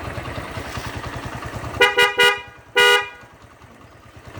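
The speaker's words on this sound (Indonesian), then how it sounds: "klakson Denso Waterproof yang ada di Honda Verza" A Denso Waterproof aftermarket horn on a Honda Verza motorcycle honks three short times in quick succession, then gives one longer blast, loud and close over a running engine's low putter.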